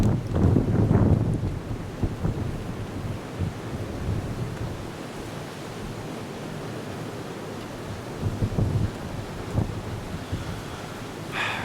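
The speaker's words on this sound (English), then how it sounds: "Cold and windy." Gusty wind buffets the microphone in rumbling bursts, strongest at the start, then settling into a steady low roar with occasional thumps.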